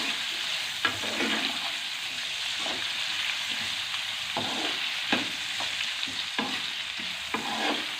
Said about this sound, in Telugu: ఆయిల్లో మంచిగా ఫ్రై చేసుకోవాలి, మగ్గాలి పచ్చి వాసన పోయేంత వరకు